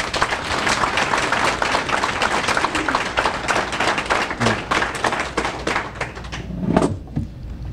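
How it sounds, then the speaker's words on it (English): An audience at a business exchange launch event gives a sustained round of applause, dense overlapping clapping that stays steady for several seconds before thinning out near the end. "So let's have a round of applause."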